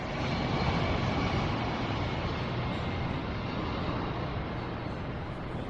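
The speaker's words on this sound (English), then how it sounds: "The plane touched down at the very beginning of the runway, and Grant felt his seatbelt strain" A large passenger jet lands on a runway with a steady, broad roar of engine and rolling noise that holds at a constant loud level from start to finish.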